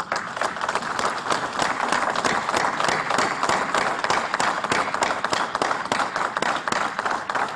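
Sustained applause from a ceremony audience in Islamabad clapping for presiding officers of model courts, a dense, steady patter of many hands with some faster rhythmic claps, loud and unbroken throughout.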